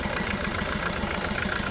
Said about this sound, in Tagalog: ang makina ay D4BF Hyundai